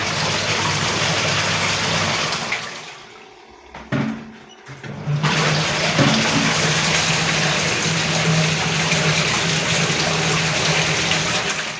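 A washing machine rinses clothes with water, a steady rushing gush that drops away for a moment in the middle, then returns and runs on evenly with no talking.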